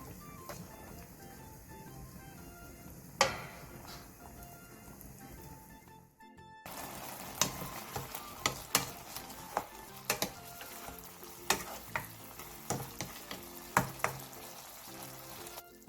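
A potato side dish with Cheongyang chili bubbling as it simmers down in a pan over medium-low heat, giving a steady close sizzle and bubbling, then a brief break before louder bubbling returns with sharp pops and clinks from stirring.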